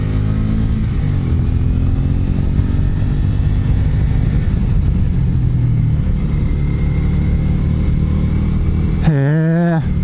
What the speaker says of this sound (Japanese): お、車来た。